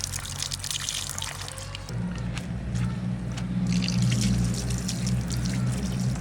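Tap water runs and splashes over a fresh 4 kg sea fish being rinsed clean after scaling, a continuous close gush that deepens and swells midway, with small drips and handling noises.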